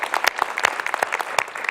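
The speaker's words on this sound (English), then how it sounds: "Round of applause for the staff and our businesses." Audience applause at a city's State of the City address, a steady wash of many hands clapping with dense overlapping claps throughout, moderately loud and without talk.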